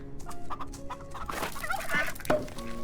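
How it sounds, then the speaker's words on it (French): Turkeys in the farming game Farm Together gobble and cluck in a quick burst of overlapping calls, close and clear against soft background music. "Donc, les petits dindons. C'est trop mignon."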